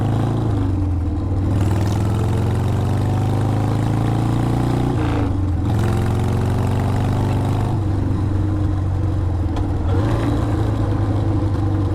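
A carbureted engine runs continuously through loud exhaust pipes, giving a strong low rumble with a few shifts in pitch as the revs rise and fall, close and loud throughout.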